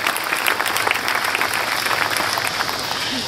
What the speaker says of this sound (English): keep that clapping going for that guy right there